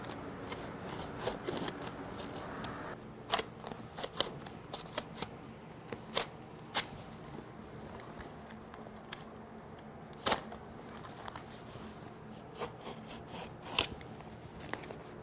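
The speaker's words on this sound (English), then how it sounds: "Use a sharp knife and trim away the excess canvas." A sharp knife trims excess canvas folded back over a tambour cabinet's back, giving quiet scraping and a series of crisp, separate cutting clicks close by against a faint background hiss, with no talking.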